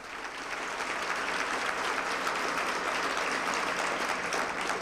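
An audience at a Women of Courage event gives sustained, even applause for honored organizers, a dense wash of clapping from a sizable crowd heard at a moderate distance, steady from start to finish.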